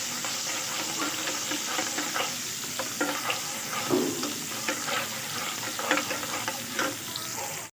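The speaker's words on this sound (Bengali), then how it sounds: "পেঁয়াজ কুচি দিয়ে ভালো করে ফ্রাই করে নেব" Chopped onions fry with black cumin seeds in a pan, a dense continuous sizzle and hiss close by, with occasional stirring scrapes and no talking.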